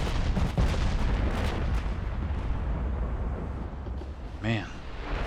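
Naval artillery fire from a fleet of warships in the video game Ultimate Admiral: Dreadnoughts, a dense rumbling wash of distant booms layered under someone talking.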